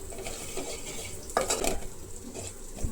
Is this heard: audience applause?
no